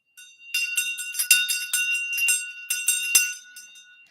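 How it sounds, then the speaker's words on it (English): A Tibetan shang ritual bell rings in quick, uneven strikes with bright metallic tones that overlap and linger, loud and close, with no other sound around it. "the shang bell"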